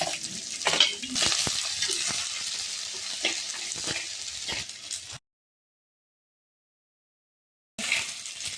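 Chopped onions, tomato and green chilli sauté in a pan for a Kerala-style pearl spot fish curry, giving a steady close sizzle with stirring scrapes, then a pause of silence and the sizzle returning.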